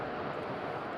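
TUI airliner departing Madeira Island Airport in wind, a dense, distant-sounding steady engine roar with no distinct breaks, heard alone.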